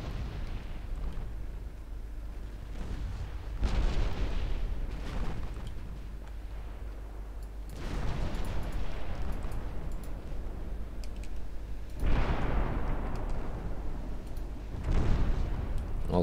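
Naval guns firing from warships in Ultimate Admiral Dreadnoughts, a 1947 Chinese fleet in battle, produce several heavy, deep booms at spaced intervals that each roll off into rumble over a steady loud background.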